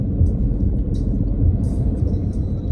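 Close, steady low rumble from inside a car driving on the coastal road from Sanremo to Nice, with engine and road noise and faint higher hiss; no speech.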